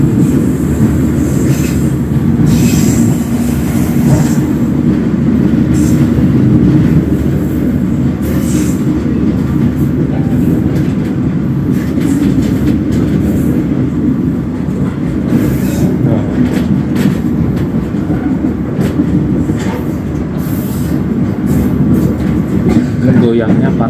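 Ride aboard a train passing the junction near Jatinegara station: a continuous close rumble of wheels on rails with occasional clicks and squeals at the switches, with people talking over it.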